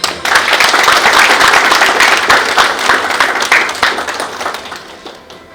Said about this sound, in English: Camera, audience, little applause.